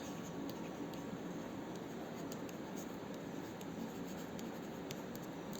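Steady scratching of a pen writing by hand on paper, close and continuous throughout, with faint ticks as the pen lifts and touches down.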